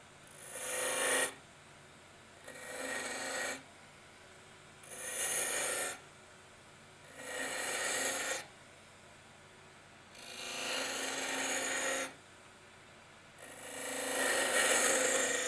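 A woodturning tool cuts a cove into spinning wood on a lathe, producing six rhythmic rasping passes of shaving noise separated by short quiet gaps, close and moderately loud.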